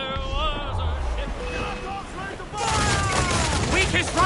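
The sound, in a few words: cannon fire in a video game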